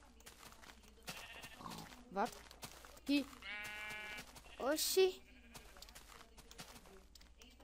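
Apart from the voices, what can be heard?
sheep bleating in Minecraft video game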